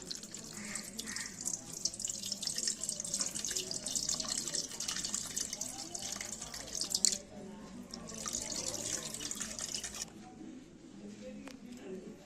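Soaked tamarind being dissolved and strained in water for mango rasam, with soft splashing, trickling and dripping in a kitchen, fairly quiet and steady with brief pauses.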